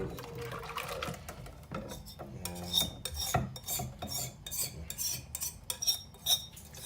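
A utensil scrapes and swirls around the bottom of a metal saucepan over and over as chocolate cream cooks over low heat, with soft clinks and thick, wet stirring sounds close by.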